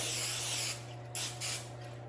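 A few short bursts of aerosol cooking spray onto a bread pan hiss close by over a low steady hum.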